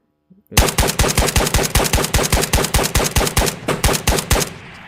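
A rapid, evenly spaced burst of automatic gunfire, about twenty loud close shots in a row, then an abrupt stop with a fading tail.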